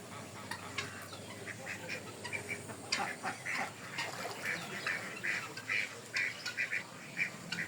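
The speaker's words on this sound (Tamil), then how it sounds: "அதே மாதிரி இது ஆண் வாத்து" A male duck quacks repeatedly in short nasal bursts, some overlapping, over a steady outdoor background with a faint voice.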